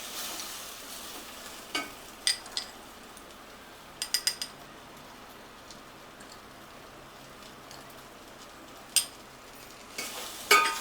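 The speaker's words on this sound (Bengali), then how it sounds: "সব মিশিয়ে আমি এখানে নাড়তে থাকবো" Paneer korma is stirred in a pan with a soft, faint simmer and occasional scattered clinks and scrapes of the spoon against the pan.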